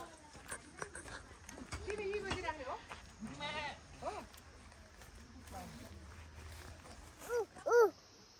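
A goat bleats at a Nepali village goat shed, with a couple of short, close bleats rising near the end over a busy stretch of people talking and outdoor background noise.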